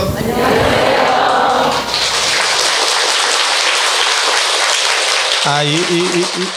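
A burst of crowd applause crackles loudly, then fades into a steady clapping wash before a voice starts speaking near the end.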